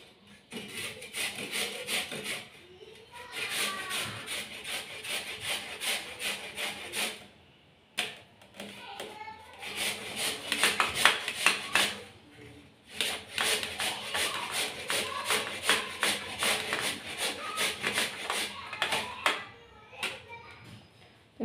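Fresh carrots, outer red part only, rubbed against a hand grater for carrot halwa, giving bursts of steady rapid rasping strokes separated by short pauses, close up and fairly quiet.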